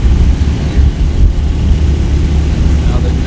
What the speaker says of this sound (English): A little bit of traffic here on the north side of Walking Street.